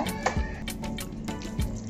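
Water pours into a cooking pan as a curry is made, a soft, close splashing trickle with a couple of faint drips over a quiet kitchen background.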